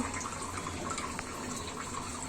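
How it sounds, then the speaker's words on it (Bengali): Liquid is poured into a pot while cooking a chicken curry, a faint, steady trickling and splashing of water that continues briefly without speech. "ঢেলে দিচ্ছি দেখো এভাবে ঢেলে দিবেন"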